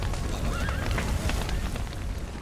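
Horses in The Witcher 3 video game give a wavering neigh and whinny over a dense, rumbling game soundscape, with faint hoof clatter mixed in.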